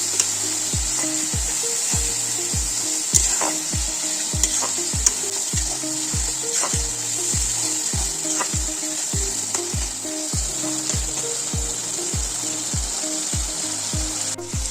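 Whole spices frying in a pan for an Assamese hah kumura (duck and ash gourd) dish, giving a steady close sizzle with repeated scraping stirs in an even rhythm throughout, no voices.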